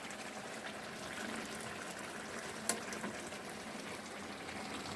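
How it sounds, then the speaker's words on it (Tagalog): Ginataang labong with shrimp and saluyot boiling in a pot gives a faint, steady bubbling simmer, close and continuous, with one small tap midway. "So ayan, kulong-kulo na."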